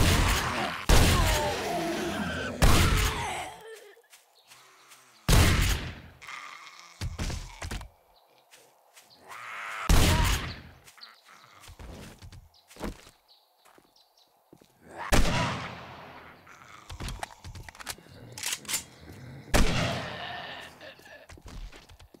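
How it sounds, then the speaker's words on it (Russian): Gunfire in the survival video game 7 Days to Die: sharp, loud shots spaced irregularly across the clip, some in quick pairs, each with a short decaying tail, between stretches of quieter game ambience. "Вот выстрел называется."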